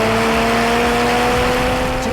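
A naturally aspirated Porsche Cayman engine winds out high, holding a loud, sustained, steady rev note with no voices over it.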